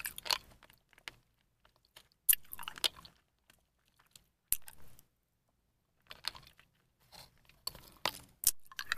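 Hard candy is sucked and crunched close to the microphone, with sharp crunches and wet mouth clicks coming in bursts between short silences.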